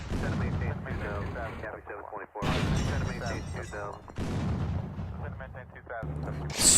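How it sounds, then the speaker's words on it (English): Artillery shells in the Roblox game Noobs in Combat boom in heavy, repeated blasts, loud and close, with a player talking throughout. "So much artillery."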